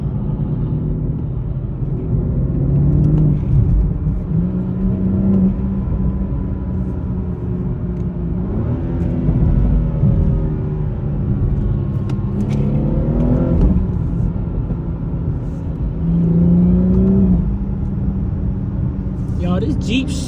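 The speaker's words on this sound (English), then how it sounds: "Yo, this Jeep sliding." A Jeep sliding sideways through city traffic, its engine rumbling and revving in repeated surges among other cars, heard close with steady road noise and people talking over it.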